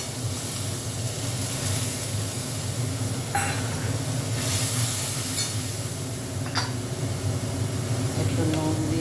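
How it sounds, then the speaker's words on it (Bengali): A spice paste for a hilsa and eggplant curry fries in a pan with a steady hiss and sizzle, and a few sharper crackles come through now and then. "মশলাটা একটু ভালো করে কষিয়ে নেব।"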